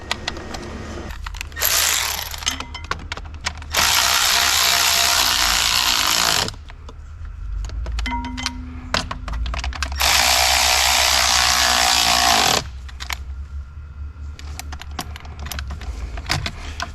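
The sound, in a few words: ratchet tightening throttle bolts on Audi Q7 engine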